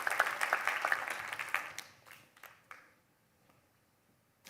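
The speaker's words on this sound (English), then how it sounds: "Yeah, round of applause." Brief round of applause from a small group at an open-source coding session, moderately loud at first, then thinning out into a few scattered claps before fading to near silence.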